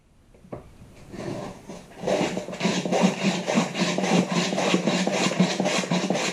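Dado plane cutting a groove in wood with steady, repeated push strokes, each a rasping, shaving sound close by, growing louder and settling into a regular rhythm with no talking.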